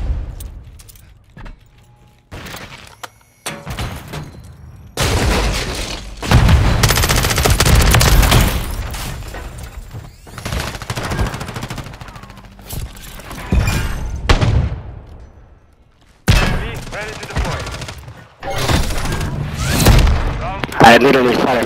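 HRM-9 gunfire in a Call of Duty MW3 Search and Destroy match comes as loud, close bursts of rapid shots with sharp gaps between them, mixed with thumps and a player talking.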